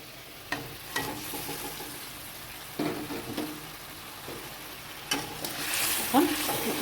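Fish hit hot oil in a pan with a crackling fry, a few sharp stirring clatters, and the sizzle swelling louder toward the end, moderately close.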